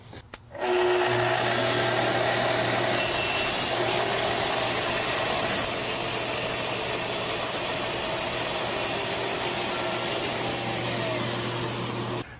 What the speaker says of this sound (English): So we're taking off 2 millimeters plus the width of the saw blade.